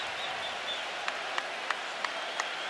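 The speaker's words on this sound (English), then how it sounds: "They don't like to hear the fans cheering." Basketball arena crowd noise with a steady, faint wash of cheering and applause, broken by several short sharp claps or thuds at roughly even intervals.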